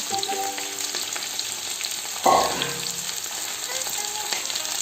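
Curry leaves and onion sizzle and crackle in hot oil while beef is cooked, a steady frying hiss with a sharp louder burst midway and faint stirring, no talk.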